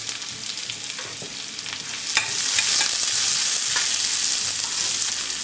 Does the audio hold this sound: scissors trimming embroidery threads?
no